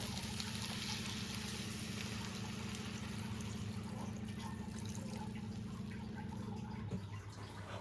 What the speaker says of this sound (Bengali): মশলাগুলো সবজির সঙ্গে ভালো করে মিশিয়ে নিয়ে এবার দিয়ে দিচ্ছি পরিমাণ মতো জল।